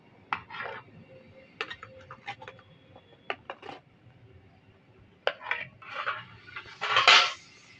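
Steamed chicken momos being lifted out of a steamer pot: a series of close clinks and scrapes of metal utensils against the pot and tray, in irregular bursts with short pauses, ending in a louder clatter.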